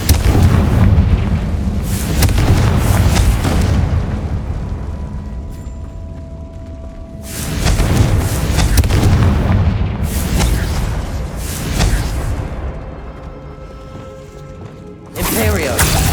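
Spell explosions from Bombarda and Confringo in the Hogwarts Legacy video game, several loud booming blasts and bursts in repeated clusters, rumbling low and full, with quieter stretches between volleys.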